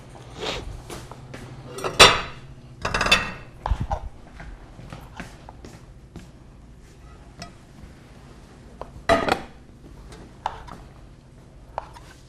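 A serving plate is set down on a counter with a few clattering knocks, among scattered kitchen clinks and thumps while fruit tart and spring rolls are prepared.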